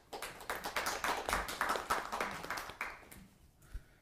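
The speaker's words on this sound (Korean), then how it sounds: "저희 부장님 나오실 때 큰 박수 부탁드리겠습니다" Scattered audience clapping at an industry conference on smart factories, a few dozen sharp claps in a loose rhythm that thins out and stops near the end.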